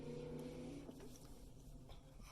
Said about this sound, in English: some asshole is revving up his engine behind me